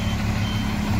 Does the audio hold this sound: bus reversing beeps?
yes